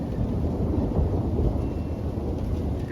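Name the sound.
thunder from a thunderstorm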